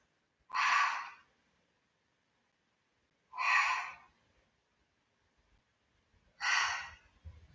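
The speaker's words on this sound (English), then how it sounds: "Exhale as you rise." Three strong, breathy exhalations during a Pilates abdominal exercise, each about a second long and evenly spaced with quiet pauses between, close and clear with no talking.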